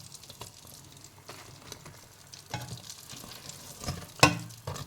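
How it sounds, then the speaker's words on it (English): Breaded mushrooms deep frying in a pot of oil give a steady soft sizzle and bubbling, with occasional stirring clatter and a sharper utensil clink near the end; no voices. "While the second batch of the mushrooms are frying"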